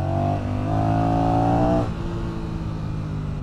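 Honda Rebel 1100 DCT motorcycle engine pulling hard under acceleration, a loud close rising drone that climbs steadily and then drops as it shifts up, continuing at a lower pitch.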